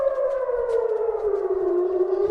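A civil defense air raid siren wails over Tel Aviv, a loud sustained tone slowly sliding downward in pitch with no talk over it.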